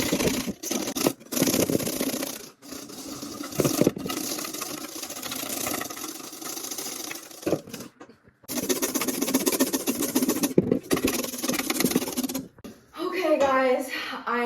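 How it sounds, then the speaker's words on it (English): A hand whisk beats cream in a bowl to whip it, a fast, steady scraping and rattling that runs almost without a break, with a short voice near the end. "I'm gonna keep on going, keep moving this whisk until all the air gets incorporated"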